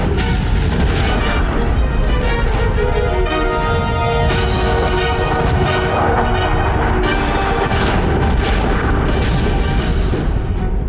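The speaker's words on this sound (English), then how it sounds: "the German Tigers and T-4s fired at the Soviet vehicles" German Tiger and T-4 tanks firing at close range on Soviet vehicles in an Eastern Front battle, a dense, loud barrage of booming cannon shots and crashes layered over a continuous roar, without speech.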